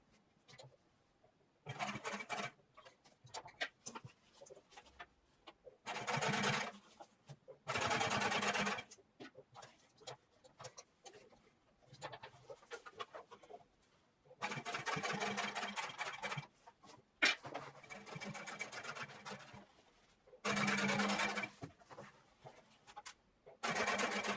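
A sewing machine topstitching denim jeans close to a fold runs in several separate bursts of a few seconds each, with quiet pauses between them.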